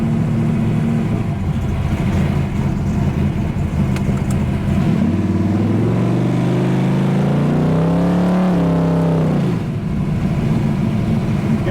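A 1968 HEMI Dodge Dart GTS muscle car is driven on country roads, its loud engine droning steadily from inside the cabin with one clear rising rev that then drops back.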